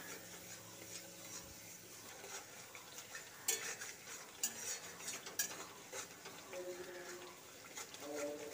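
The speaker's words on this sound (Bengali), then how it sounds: "গুঁড়ো মশলা রেডি করে রেখেছিলাম সেই মশলাটা এবার দিয়ে দেব। দিয়ে ভালো করে কষিয়ে নেব।" Ground spice mix is stirred and scraped in a pan for a Bengali vegetarian potol curry, with faint, irregular metallic scraping and tapping over a low background hiss.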